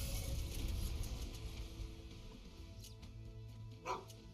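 Dog units in the real-time strategy video game Stormgate bark repeatedly as short synthetic yips over a steady low game hum and ambience, with a louder bark near the end and no talk.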